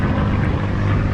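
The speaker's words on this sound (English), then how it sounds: "some sort of fighter jet, old school." An old-school fighter plane performing aerial stunts roars overhead above a beach, a loud, steady, broad engine drone filling the whole moment.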